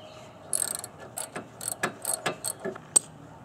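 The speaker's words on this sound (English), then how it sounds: "So I'm just going to move my ratchet underneath and start loosening." A ratchet loosening a 12 mm sway bar end link nut under an MR2 Spyder, giving rapid bursts of metallic clicking pawl strokes, close and uneven in rhythm.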